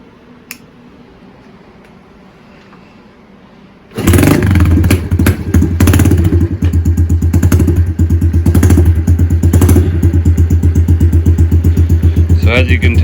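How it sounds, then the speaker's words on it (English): A cold-start Honda CRF110 with a 132cc big bore kit and Piranha exhaust fires up about a third of the way in after a quiet lead-in, then runs with a loud, close, rapid-thumping single-cylinder idle and throttle blips. "So I'll fire it up right quick. It might be a little bit stumbly off the beginning. This is a cold start"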